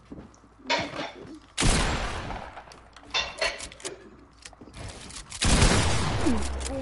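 Fortnite gunshots crack in short bursts, several sharp blasts scattered among a chaotic mix of game noise and children's voices talking and shouting.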